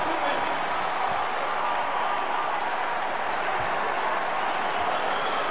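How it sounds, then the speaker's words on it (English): A basketball crowd at Rupp Arena erupts in loud, sustained cheering and applause, a dense unbroken roar that fills the whole stretch without easing. "And the crowd in Rupp is going nuts."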